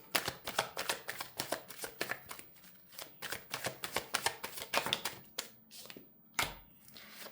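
Tarot and oracle cards being shuffled by hand: a brisk run of dry riffling flicks and taps in irregular bursts, close and fairly quiet, ending with a few sharper slaps as the deck settles.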